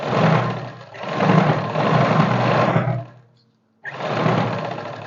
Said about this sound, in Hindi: अब जो दूसरी सिलाई है वो लगाएंगे ये किनारे वाले।